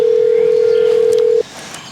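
A telephone dial tone sounds as one loud, steady, unbroken hum for well over a second, then cuts off abruptly, leaving faint background noise.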